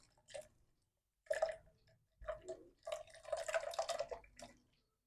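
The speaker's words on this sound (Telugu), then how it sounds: "ఫిల్టర్ తీసుకొని గ్లాస్లో తీసుకొని ఇలా ఫిల్టర్ చేసేసుకోవాలి" Papaya juice is strained through a filter into a glass, giving several separate bursts of splashing and dripping liquid with quiet pauses between them, close up.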